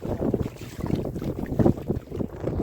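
Strong wind buffeting a fishing boat in the Sundarbans during a storm, loud gusty rumbling across the microphone with water movement, continuous and close with no speech.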